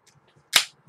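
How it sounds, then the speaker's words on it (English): A flip-top bottle of double IPA pops open with a single sharp, close crack, surrounded by near silence. "Flip top this nice double IPA here and go."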